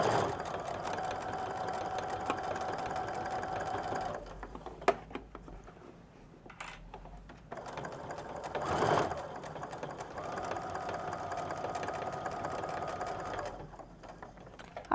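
A sewing machine stitches down a divided pocket on a fashion backpack, running steadily in two long close bursts with a brief pause and a few handling clicks between, then a short stop near the end.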